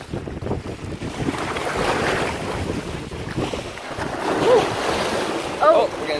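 Wind-driven waves slapping against a small fishing boat out on Long Island Sound, a steady gusty roar with wind buffeting the microphone and a couple of louder splashes near the end, with brief voices.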